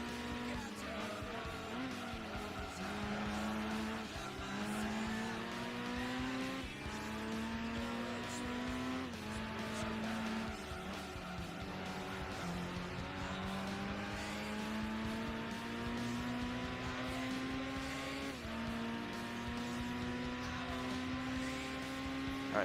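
A Honda Civic race car in Gran Turismo 2 screams at high revs, repeatedly climbing through gears with brief dips at each shift, a steady, thin engine whine that runs throughout.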